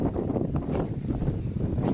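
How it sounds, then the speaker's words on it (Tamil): Strong wind blowing at an exposed spot outdoors, buffeting the microphone with a loud, continuous low rumble and gusty flutter, with no talk. "நீங்கள் இந்த இடத்துல வந்து காற்று ரொம்ப அதிகமாக இருக்கும்"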